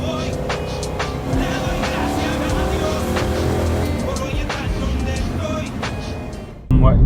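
A car pulls out to overtake a slower vehicle on a road in Hokkaido, its engine and tire roar steady and fairly loud throughout, the rushing road noise filling the whole stretch before briefly dipping near the end.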